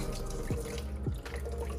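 Soaking water from shiitake mushrooms drains into a sink, a soft, steady trickle and splash with a couple of gurgling drips, faint and close in a quiet kitchen.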